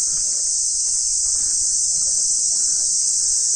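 Night crickets near a ghat by the water keep up a dense, unbroken high chirring, loud and steady throughout, with faint low background noise beneath.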